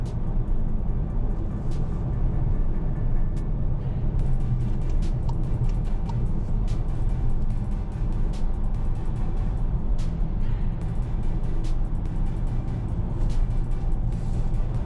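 Volkswagen Arteon R-Line 4Motion driving in sport mode, a continuous low engine drone and road hum heard from the cabin with faint clicks and rattles, steady throughout and free of talk.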